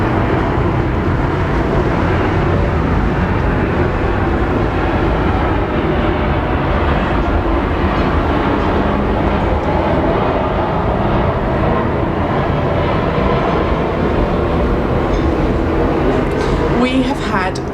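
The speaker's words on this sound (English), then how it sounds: "There's always a plane." A plane passes over a poolside in Ibiza, its loud, steady broadband roar filling the whole stretch without letting up.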